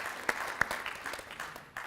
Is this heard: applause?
yes